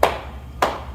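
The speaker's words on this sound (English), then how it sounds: "we're gonna start off by slapping our hands" Two sharp hand slaps about half a second apart during a children's circle-time hand-motion song, close and crisp with quiet between them.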